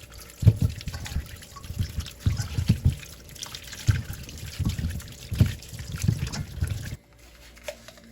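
Santol fruit being washed in a basin of water, with repeated splashing and trickling pulses that come in uneven bursts close by, then stop near the end.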